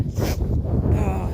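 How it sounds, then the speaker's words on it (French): Wind blows outdoors, rushing and buffeting the microphone in a loud, steady roar with no voices. "Ah, il y a du vent."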